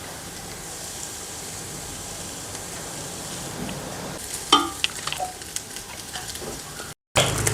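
Cooked rice stir-fried in a hot pan for chicken fried rice, a continuous close sizzle with scraping and tossing stirs building toward the end.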